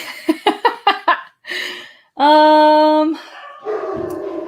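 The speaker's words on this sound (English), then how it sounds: "Dogs barking as usual." Several dogs barking in a quick burst of five sharp, close barks, then a longer whine or howl-like drawn-out cry, with further vocal noise trailing off.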